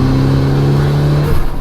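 A modified Mitsubishi Evo engine at a car show drones loudly with a steady held tone, then shifts and drops near the end, close and without talk.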